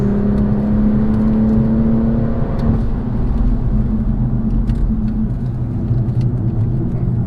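A car engine on a driving run pulls hard toward the rev limiter, a loud, close whine climbing and then holding near the top of the rev range with a steady droning roar.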